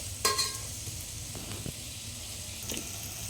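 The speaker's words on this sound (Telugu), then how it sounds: "ఉల్లిపాయలు బాగా ఫ్రై అవ్వాలి" Onions frying in a pan for greens rice, a steady soft sizzle with a few spoon stirs and scrapes, close and moderately quiet, no talking.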